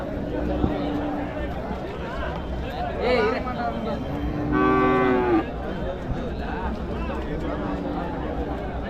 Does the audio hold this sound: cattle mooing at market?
yes